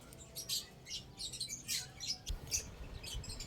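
Several sharp, high squawks and chirps come from birds nearby, arriving in uneven bursts over faint low background noise.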